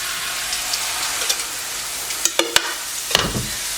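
Strips of batter frying on a greasy stove, a close steady sizzle and crackle with a few sharp pops and spatters near the end, no voices.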